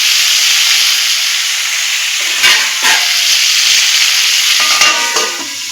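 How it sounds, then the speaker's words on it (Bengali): Potatoes fry in oil under a lid on medium heat, giving a steady loud hiss and sizzle with a few sharper bursts and bubbling crackles, close up and without any talking. "আমি আলুটাকে ঢাকা দিয়ে দেবো যাতে আলুটা ভাজার সঙ্গে সঙ্গে কিছুটা সিদ্ধও হয়ে যায়"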